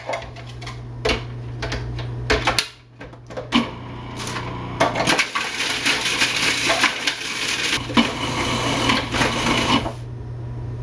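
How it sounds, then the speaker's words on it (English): A food processor grinds Oreo cookies into crumbs, a steady rattling whir running for most of the stretch with brief pauses and clattering bursts near the start. "let's grind up the rest of our Oreos and we'll keep going"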